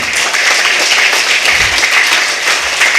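Audience of students clapping together at a medical college freshers' day celebration, a dense, steady burst of applause filling the hall without a break.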